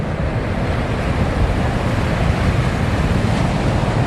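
A large-cabbed boat built to take waves head on pushes through rough ocean swells, a loud continuous roar of surf and wind rushing past with no voices.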